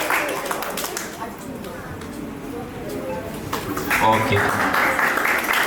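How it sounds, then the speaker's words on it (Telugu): Children clap together for a best boy at a vacation Bible school day, a busy patter of hands under a speaking voice, growing louder toward the end. "ఒకసారి క్లాప్ కొట్టండి వీళ్ళకి,"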